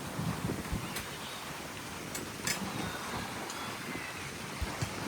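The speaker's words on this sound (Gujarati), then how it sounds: "જોઈ લો એટલો મસ્ત ઠંડો પવન" Steady wind rushes across the microphone outdoors in a park in Canada, a soft continuous roar with occasional faint gusts and distant ambient noise.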